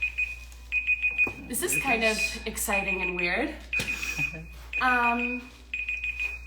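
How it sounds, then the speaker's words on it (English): A timer alarm keeps beeping in a steady, high, close run of pulses with short gaps, while someone talks over it during a livestream. "It was a timer."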